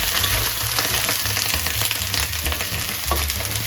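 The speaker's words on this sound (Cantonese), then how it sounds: "再將佢翻炒均勻" Spring greens with garlic are stir-fried over high heat in a wok, giving a loud, continuous close-up sizzle with the rustle of tossing underneath and no voices.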